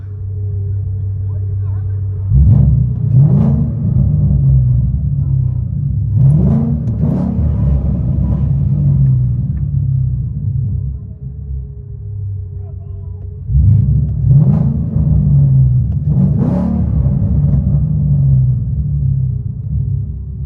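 From inside a 2012 Ford Mustang GT, a deep V8 rumble through mid-length headers, Bassani rear exhaust and resonator delete idles and swells into two strong revs, with people talking over the muffled exhaust.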